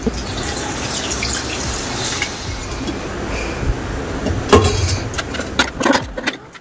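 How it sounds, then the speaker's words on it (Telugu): Water poured into a pot of curry, a continuous close trickle and splash that swells near the end, with a few clatters of utensils as it finishes. "ఇప్పుడు ఇందులోని కన్సిస్టెన్సీకి తగ్గట్టు వాటర్ యాడ్ చేసుకోవాలి"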